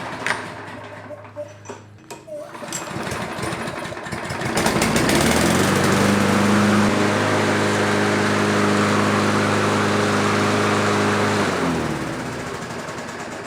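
A few clanks and rattles, then a Toro walk-behind lawn mower engine starts and runs at a steady, loud drone before easing off slightly near the end.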